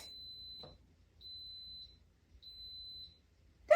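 An Instant Pot pressure cooker gives three long, steady electronic beeps, evenly spaced with short pauses between, clear against a quiet room.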